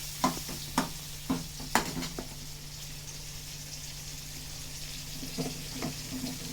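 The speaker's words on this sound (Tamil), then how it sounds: "நல்லா வதக்கி விட்டுருங்க." Ripe mango pieces sautéed and stirred in a pan, a steady soft sizzle broken by a few sharp scraping stirs near the start and again toward the end, close and alone without talk.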